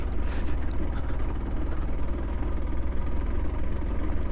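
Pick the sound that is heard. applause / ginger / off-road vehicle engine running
off-road vehicle engine running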